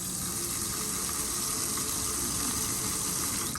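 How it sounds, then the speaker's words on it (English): Water gushes from an outdoor spigot at a house, run to flush out bugs and debris, a steady, close, continuous rushing flow with no voices. "So you just want to turn it on and run it."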